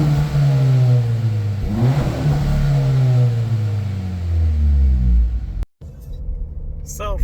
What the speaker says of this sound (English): So for stock exhaust, it sounds pretty good in sport mode.